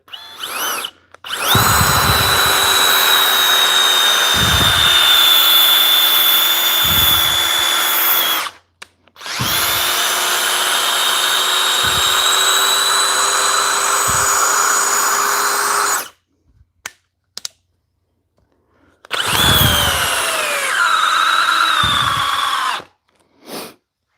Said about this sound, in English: It's the drill. It's the subcompact impact driver